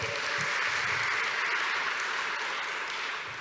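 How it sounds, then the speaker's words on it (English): Audience at a New York City event with Governor Cuomo applauding the Reverend, a loud, dense, continuous wash of clapping from many people that carries through the whole moment. "Let's give the Reverend a round of applause."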